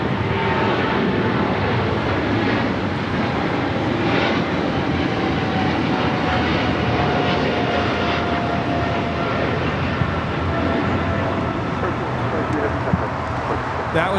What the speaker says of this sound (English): That was the Cargo King taking off to Shanghai.